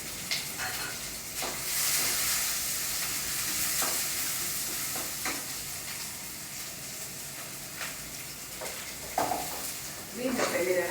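Vegetables for sambar, including beans, yellow pumpkin, capsicum, French beans and green peas, frying in a little oil with a steady close sizzle and hiss, occasional stirring clinks and pan knocks, and a brief voice near the end.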